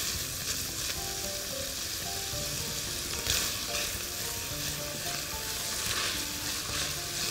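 Meat browning in a pan, frying with steady, dense sizzling and crackling that runs continuously, close and fairly loud, with faint stirring clatter and no voices.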